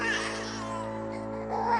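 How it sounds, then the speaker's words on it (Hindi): A baby cries in a whimpering, babbling way, steady and fairly close, with a rising wail near the end. "फिर अचानक एक बच्चे की रोने की आवाज आई।"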